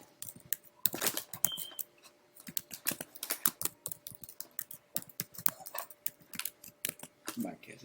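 Typing on a computer keyboard while setting up an account and password, rapid irregular key clicks near the microphone, with a person talking over parts of it.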